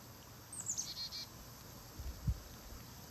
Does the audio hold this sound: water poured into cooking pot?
no